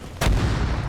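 A rocket slams into a vehicle in a video game, one sudden booming blast that breaks out after a short lull and then rolls on in a loud, rumbling low roar.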